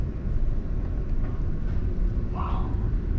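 Steady low rumble of a Chinese bullet train riding at speed, heard from inside a luxurious first-class carriage, with a faint higher whine rising briefly near the end.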